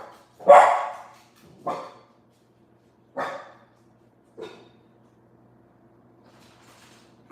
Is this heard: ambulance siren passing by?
no